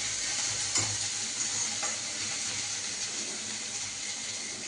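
Meat and fried potatoes sizzle in a pan while being stirred, a steady close frying hiss broken by a few scraping knocks of the spoon.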